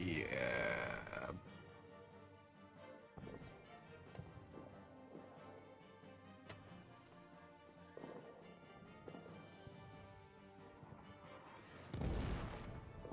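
Explosions and artillery fire in the trench-warfare video game All Quiet in the Trenches, with booming blasts at the start and near the end and scattered thuds and crackles between, heard under a continuous layer of game sound.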